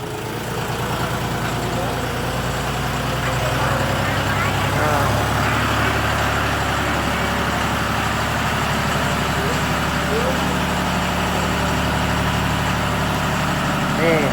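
A John Deere 5040D tractor's 40-horsepower, 2,900 cc three-cylinder non-turbo diesel engine idling with a steady low rumble and rattle, continuous throughout, with a voice speaking over it.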